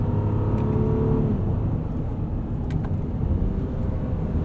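A 2023 Honda Pilot in sport transmission mode accelerates with a steady, loud engine drone from inside the cabin, its harmonic pitch stepping down around a gear change about a second in before climbing again under constant road rumble.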